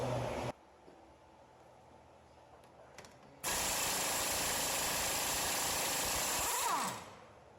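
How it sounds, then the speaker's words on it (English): Pneumatic impact gun breaking loose an axle bolt during front passenger-side axle replacement on a 2006 Ford Escape: a loud, steady broadband rattling burst of about four seconds that cuts off abruptly, preceded by a short burst and quieter shop noise. "I'll be using an impact gun anyway."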